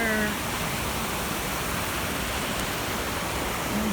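Outdoors, a waterfall roars beneath a small iron bridge as a constant, loud, broadband rush of falling water fills the whole clip, with a faint tonal sound at the very start.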